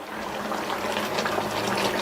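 Water poured into a pan of jaggery for Tamil-style payasam, a steady gushing splash of liquid running continuously for a couple of seconds with no talking.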